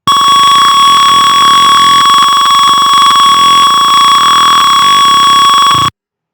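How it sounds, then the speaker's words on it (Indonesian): A loud, steady electronic alarm tone from an Arduino temperature sensor circuit blares continuously for several seconds, then cuts off abruptly. "si alarm ini akan bunyi"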